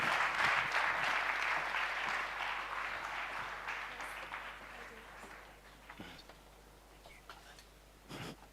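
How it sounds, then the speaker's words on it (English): Audience applause fills an awards ceremony hall, a dense burst of clapping that gradually thins and fades over several seconds, with faint voices underneath. "Give him a big applause."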